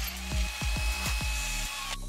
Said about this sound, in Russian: а потом через одну деталь просверлить другую